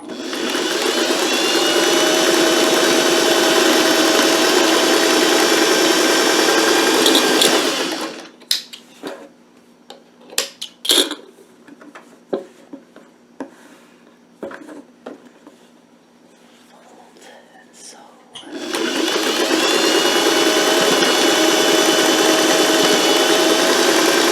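A sewing machine stitches a quilt block with a fast, even mechanical whir, running in two long bursts close by, separated by a quieter gap of fabric handling and clicks.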